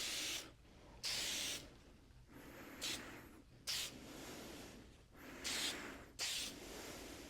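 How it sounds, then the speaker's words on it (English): Aerosol can spraying wood finish onto a workpiece in steady one-direction passes, about a foot away: a series of loud, broad hissing bursts, roughly six of them, each under a second, separated by short quiet gaps with faint background noise. "hold it about 12 inches away and spray in one direction"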